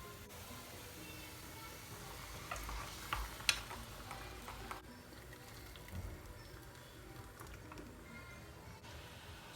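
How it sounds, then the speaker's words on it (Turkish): Dried mint being stirred into a pot of Ezogelin lentil soup, with soft scraping and a low sizzle that continues steadily at moderate volume for several seconds, with no talking. "Hemen bir karıştırayım."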